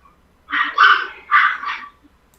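Dogs barking nearby in a home, two pairs of sharp barks with a brief gap between them, fairly loud and clear with no talk.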